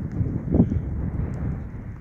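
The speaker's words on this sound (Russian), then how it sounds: "Ветер сильный, нагоняет." Steady, strong wind buffets the microphone outdoors with a low rumbling roar that gusts throughout, with no talking, during metal detecting.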